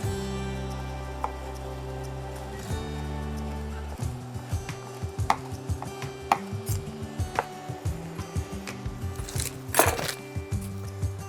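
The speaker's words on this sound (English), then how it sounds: "We're going to slice that into just squares." A knife chops pancetta into squares on a board, giving a run of quick, close knocks that start faint and grow sharper and more regular, heard alone without talk.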